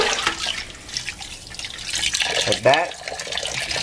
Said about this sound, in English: you just have to put enough water that it actually covers all of the chicken like this